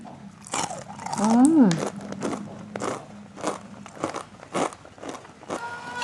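Crispy fried tofu is bitten and chewed close up, a series of sharp crunches and crackly chews in irregular bursts, with a brief voice near the start.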